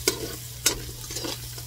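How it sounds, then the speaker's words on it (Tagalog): Pinakbet ingredients fry and get stirred in a pan, with two sharp scraping stirs standing out over a steady sizzle and a low hum underneath, no voices. "I-fried pa natin ng konti. Yung mag-brown talaga siya guys."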